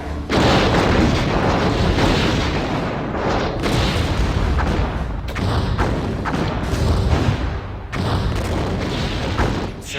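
Torpedoes launch and detonate in a game battle, a continuous heavy rumble of booming blasts with several short breaks, loud and close throughout.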